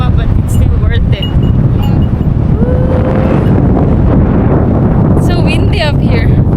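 Strong wind roars without a break across the microphone on a bare, treeless mountain summit at Joroiwa in Japan, a loud, steady buffeting rush with a few voices faintly under it.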